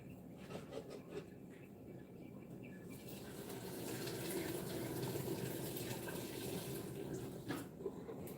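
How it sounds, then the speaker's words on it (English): Water from a pasta pot is poured out into a sink, starting with light clatter and then a steady rushing splash that holds for several seconds before tapering off. "I'm actually going to pour out most of the water."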